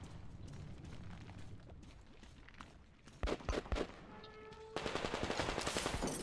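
Gunfire from Metro Exodus cracks out in short sharp bursts, then a rapid automatic stream of shots. The whole exchange is faint and distant against a low background rumble.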